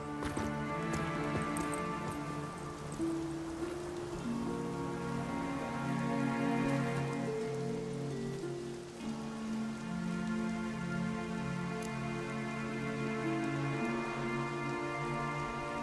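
Steady rain patters on surfaces throughout in The Witcher 3: Wild Hunt, with hooves clip-clopping and tonal background music layered over it.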